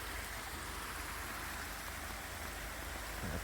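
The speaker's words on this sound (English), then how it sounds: "there's a waterfall and everything" A winter waterfall rushes in a steady, broadband wash of falling water, constant and unbroken with no voices.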